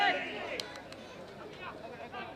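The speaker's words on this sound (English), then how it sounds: "Crowd calling for 50." Crowd at an Australian rules football match between Hutchins and University calling out together for a 50-metre penalty, a broad hubbub of many voices rising and swelling over about two seconds.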